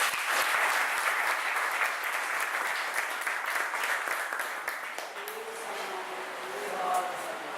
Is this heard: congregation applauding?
yes